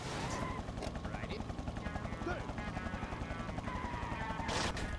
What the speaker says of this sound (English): Is there a helicopter?